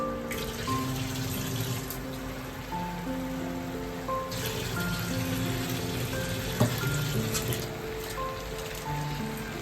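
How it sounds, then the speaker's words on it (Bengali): Water poured into a pan of sautéed spices for shahi paneer, a steady running, splashing stream with faint sizzling that continues throughout, fairly close, with no talk. "কষানো হয়ে গেছে, এবার জল দিয়ে দেবো।"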